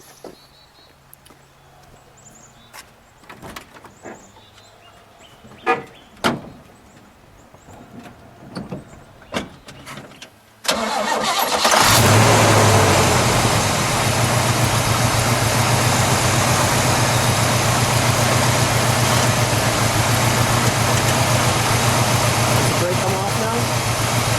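A 1967 Pontiac Firebird's 326 HO V8 engine cranks and catches, then settles into a loud, steady idle that drones on without pause, after some quieter clicks and handling noises.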